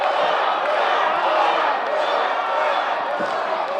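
Crowd at a live pro wrestling show in the Scottish Rite Temple cheers loudly and steadily for wrestler Thor Theriot, a dense roar of voices and shouts that holds throughout.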